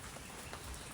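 Light rain begins falling again, a faint, even patter of drops on surfaces, close by and with no voices.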